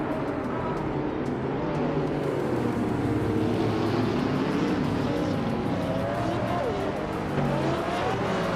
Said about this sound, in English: the race just kicked off at Lausitzring GP